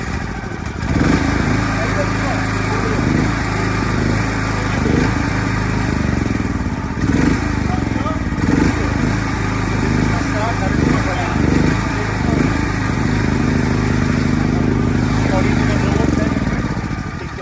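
A 3–10 kVA petrol generator started by battery chugs loudly and steadily at close range with a rough, rhythmic mechanical rumble and clatter, running throughout while someone talks over it.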